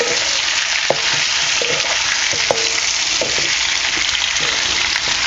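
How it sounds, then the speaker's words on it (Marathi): Tender eggplant pieces sautéing in hot oil after the spice tempering, a dense, loud, even frying hiss with occasional sharp spatula scrapes and taps against the pan, no one speaking. "फोडणी दिल्यावर आहे ना असं आपल्याला वांगी थोडंसं आपल्याला परतून घ्यायचं"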